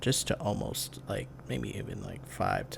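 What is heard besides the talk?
No everyday noise stands out behind the speech.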